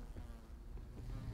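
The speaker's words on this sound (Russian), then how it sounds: "А, это кинжалы жужжат." Daggers buzz like a swarm of flies in the video game Dark Messiah, a faint, low droning insect-like hum that wavers steadily with no talk over it.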